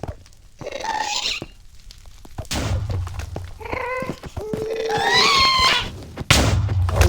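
Ghasts in the Minecraft Nether wail and shriek in rising cries, struck by a sword with dull thunks, with a sharp hit near the end.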